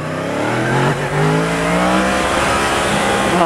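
Motorcycle launching hard in its lowest engine power mode with traction control at maximum, a loud near engine note climbing steadily in pitch as it pulls away, with no talk.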